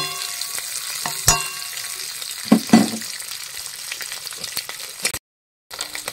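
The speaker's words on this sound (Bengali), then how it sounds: "কড়াইয়ের ভেতরে আমার একটুখানি তেল দিয়ে নিয়েছি, ওর ভেতরে পাঁচফোড়ন দিয়ে নিয়েছি।" Panch phoron spices crackling and sizzling in a little hot oil in a wok, a steady close frying hiss with a few sharper pops and stirring clatters, no voices.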